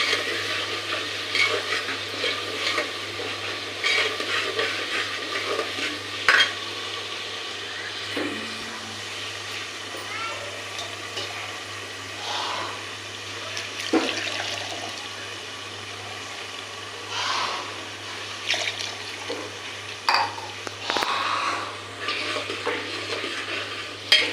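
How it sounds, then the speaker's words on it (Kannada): Masala fries and is stirred in a pan, a continuous soft sizzle under repeated scraping strokes of a spoon against the pan, close up, with a steady low hum in the background. "ಹಾಗೆ ಫ್ರೈ ಆಗಬೇಕು ಹಸಿ ವಾಸನೆ ಹೋಗೋಂಗೆ"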